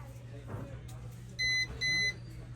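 A multimeter continuity tester beeps twice in quick succession while probing a capacitor on an Infinix Hot 10s X689 phone board, two short steady tones over low background hum.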